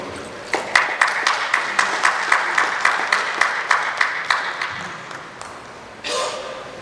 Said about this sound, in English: everyone, round of applause, thank you